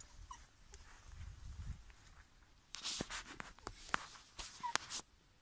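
A small dog whimpers and yips softly in short, sharp bursts, close by, with a few light rustles in between.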